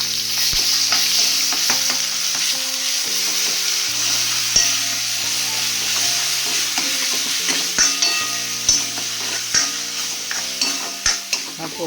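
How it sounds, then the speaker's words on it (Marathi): Ground masala of onion, garlic, coconut, coriander and ginger fries in a pan with a steady sizzle, while a spoon stirs and scrapes with irregular clinks throughout. "हा फ्राय करणार."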